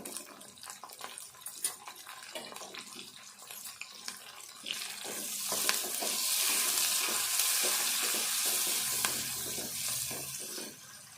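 Curry leaves and turmeric fry in hot oil for a bitter gourd fry, a steady sizzle that swells louder and denser partway through, broken by scattered clicks of stirring against the pan.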